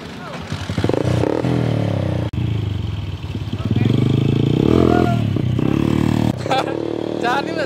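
A motorcycle's exhaust silencer rumbles and revs steadily for several seconds, loud and close, with people talking over the engine.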